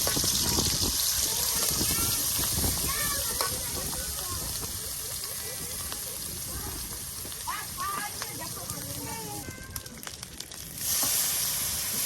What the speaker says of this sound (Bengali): এখন এই যে আপনার বাটা মশলা দিয়ে ভালো করে কষানো হচ্ছে